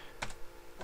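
A few quiet keystrokes on a computer keyboard while entering an Excel formula, two close taps then another after a short pause.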